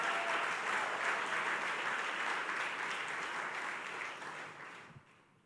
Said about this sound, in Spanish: Dale el aplauso al Señor si se lo vas a dar